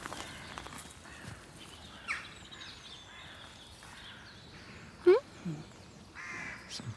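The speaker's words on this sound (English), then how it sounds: "Some jackdaws and crows." Jackdaws and crows in an urban setting give scattered harsh caws and chacks at middle distance, with one louder call near the five-second mark, over faint background hum and occasional soft movement.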